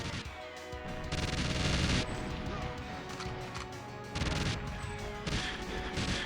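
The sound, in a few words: turret gunfire in the video game GoldenEye 007 remake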